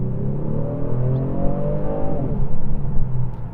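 2019 car engine pulling hard under acceleration, a loud close drone rising in pitch over several seconds, then shifting and continuing to build, with no voices.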